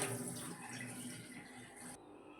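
Water drains steadily from freshly washed amaranth leaves in a home kitchen, a faint continuous splashing trickle that changes slightly near the end.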